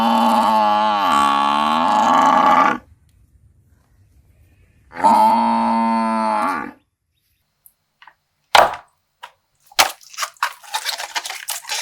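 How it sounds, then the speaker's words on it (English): A water buffalo lows in two long, loud, drawn-out calls separated by a short pause, followed by a few sharp clicks and knocking sounds. "It's a water buffalo."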